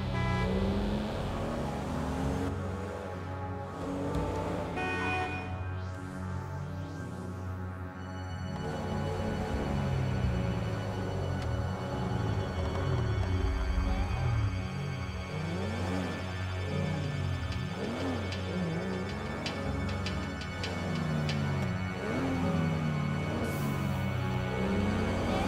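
An unusual car drives in GTA V with poor, slippery grip, its engine droning and revving continuously for a long stretch, rising and falling with gear changes and cornering, loud and close with no talk.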